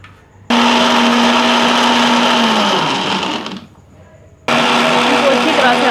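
A blender grinds milk, yogurt and cherries into a smoothie, running loud and steady for about three seconds, slowing, pausing briefly, then starting again at full power.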